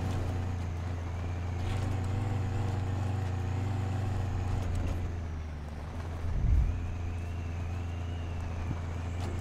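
An R&R Customs 3500 truck engine driving slowly through mud in SnowRunner, a steady low droning hum with a brief louder surge and a few clunks, no talking.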